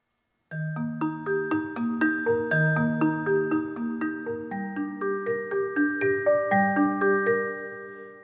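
A bright mallet instrument plays a steady eighth-note arpeggio, each struck note ringing clearly and overlapping the next, with no voices.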